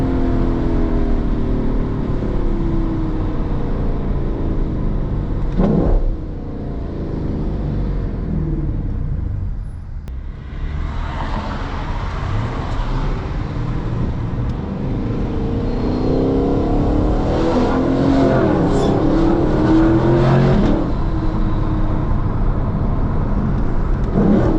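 A Lexus LC 500 downshifting, its deep exhaust rumbling and blipping through repeated revs. The engine stays loud and close throughout with rising and falling pitch sweeps and no talking.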